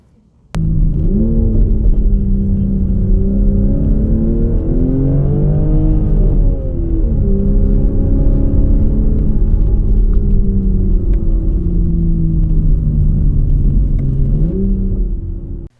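A Toyota Supra MK5 sports car engine drones steadily while driving, a loud low rumble with rising and falling pitch as it accelerates and shifts, starting abruptly and running alone without talk.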